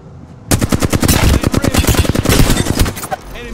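Rapid automatic gunfire in the shooter game Fuse, a close, loud burst of dense rhythmic shots lasting about three seconds after a quiet start.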